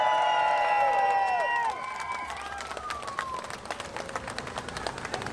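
Crowd at the 'Samen voor Nederland' demonstration in Amsterdam breaking into applause and cheering after a voice and tonal sounds fade, with dense clapping continuing steadily to the end.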